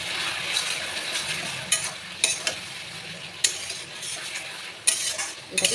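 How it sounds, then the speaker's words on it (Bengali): Chalta (elephant apple) pickle stirred with a spice mix in a hot pan: a soft continuous sizzle punctuated by several sharp scrapes and clinks of the spoon against the pan. "আবার একটু নাড়িয়ে নেবো।"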